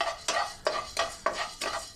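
Coriander seeds, with a little fenugreek, dry-roasting in a pan while being stirred for bisi bele bath powder: five rhythmic scraping, rattling strokes in two seconds, close and clear, with no talk.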